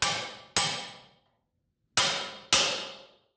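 Four sharp metallic hammer strikes drive a bearing race into a Volvo Penta DPS lower-unit gear case, each ringing clang decaying over about half a second, with a pause after the second blow, close and alone.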